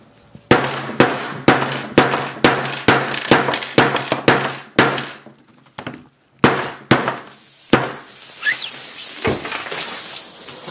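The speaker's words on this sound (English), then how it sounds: "I'm just going to hammer this guy all the way to its death" Hammer smashing a Samsung Galaxy S5 phone: about twenty loud, sharp blows in a fast, steady rhythm, a short pause, then a few more hits ending in a hissing, crackling burst, close up with no voices.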